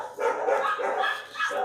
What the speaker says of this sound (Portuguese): é só começar a gravar que começa esses cachorros nos vizinhos